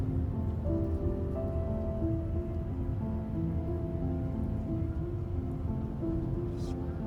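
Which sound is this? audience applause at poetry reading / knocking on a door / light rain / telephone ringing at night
light rain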